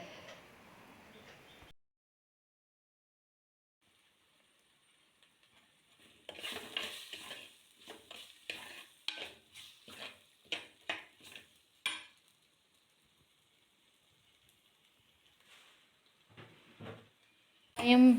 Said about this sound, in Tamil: அதோட 3 பச்சை மிளகாவையும் போட்டு நல்லா வதக்கிக்கோங்க.